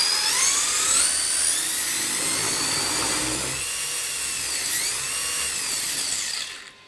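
A BSR BT-4 electric RC touring car motor is held down and run up to full throttle, with tires not yet glued. Its high, loud whine rises and wavers in pitch close by for several seconds, then quickly fades out.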